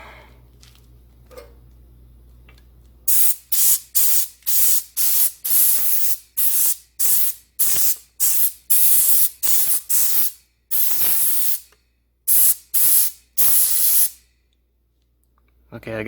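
Air hose blasting compressed air in about a dozen sharp, loud hissing bursts of uneven length, separated by brief pauses, close to the listener.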